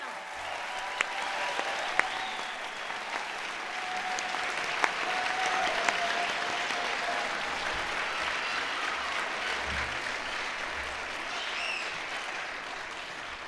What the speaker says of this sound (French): Applaudissons chaleureusement nos diplômés et baccalauréats faculté de sciences